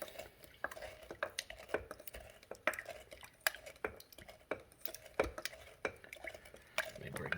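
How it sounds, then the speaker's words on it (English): A muddler works sugar in an Old Fashioned glass, giving quiet, repeated taps and scraping clinks in a steady rhythm, close and soft. "we'll go ahead and start muddling"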